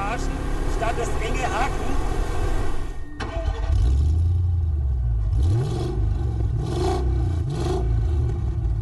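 A deep, throaty Kleemann-reworked supercharged V8 in a Fisker Tramonto rumbles steadily, rising into revs with a rough burbling exhaust note, loud and close.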